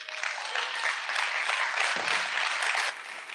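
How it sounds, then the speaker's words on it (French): A crowd claps at the 2019 closing ceremony of a digital festival in Marseille as people are welcomed onto the stage. The applause is steady and full throughout, easing slightly just before it ends. "Je voudrais qu'on les accueille avec moi sur scène et que vous puissiez les applaudir"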